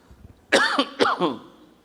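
Two sharp, close coughs in quick succession, with a throaty, rasping edge.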